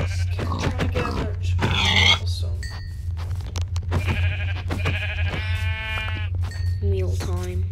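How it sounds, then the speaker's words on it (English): Sheep in Minecraft bleat repeatedly in short, wavering calls, close and clear, scattered over a low steady hum, with a brief voice heard among them. "Oh, three sheep."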